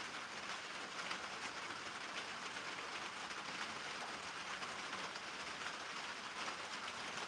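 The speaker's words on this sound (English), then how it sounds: "That's what a metal roof with no insulation sounds like." Light sprinkling rain drums on an uninsulated metal roof, a dense, steady hiss with fine patter that sounds much heavier than it is, continuous and close throughout with no voices.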